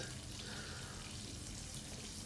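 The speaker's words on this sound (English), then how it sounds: "It makes it taste even better now that it's boiling." Sinigang broth with milkfish and crushed kamias boils in a pot, a soft, steady bubbling hiss that stays faint and even throughout, with no voices.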